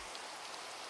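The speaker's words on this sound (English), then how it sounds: "And why did it have to start raining?" Steady rain hissing evenly in Minecraft, a constant wash of falling drops with no voices over it.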